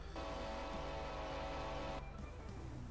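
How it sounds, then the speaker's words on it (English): A train horn, likely an Amtrak Polar Express, in the FiveM game blows one long sustained tonal blast up close and loud for about two seconds, then cuts off, leaving lower rumbling tones beneath. "I hear a train horn, and I think that's that Amtrak Polar Express deal"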